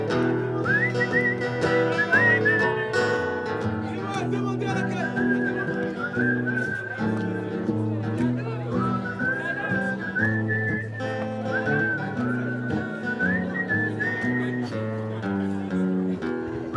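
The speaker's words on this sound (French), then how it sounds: "Les sifflets." Melodic whistling carries a tune over accordion-like accompaniment in a French chanson, sustained phrases rising and falling near the front throughout.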